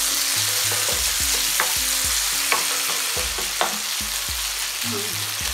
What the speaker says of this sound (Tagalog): Then capers. Stir it for your at least 2 minutes.